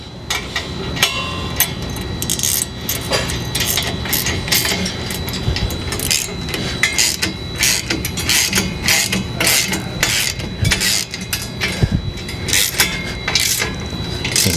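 A 3/4 inch wrench and socket tighten the nuts on a Lolo bike rack tilt assembly, giving a steady run of sharp metallic ratchet clicks and taps in an uneven rhythm, close and loud.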